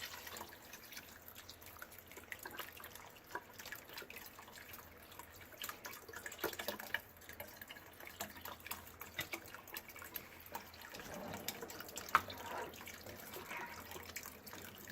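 Broth trickles and drips into a cooking pot for pumpkin mushroom soup, a faint, steady liquid pour with light splashes running throughout, with no talking.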